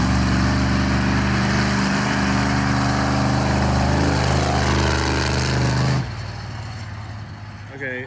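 A monster truck runs hard in first gear during a brake test with a loud, droning engine that holds steady and then drops off sharply partway through. Voices are mixed in with the engine.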